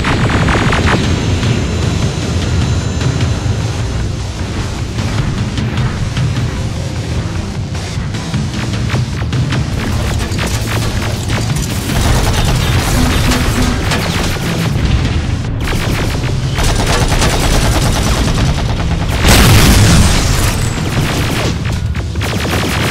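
Dense video game firefight in a metro station: rapid overlapping gunfire bursts and heavy booms, loud and continuous throughout, with a large blast near the end.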